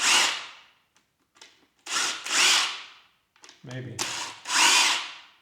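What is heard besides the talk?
Makita power cord fitted to angle grinder, grinder running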